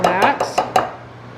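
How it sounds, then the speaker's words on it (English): A knife chops vegetables into large chunks on a cutting board, five sharp, evenly spaced thuds close to the listener, ringing briefly before fading. "Judah, when you're done large chopping that, you can throw those chunks in this bowl too"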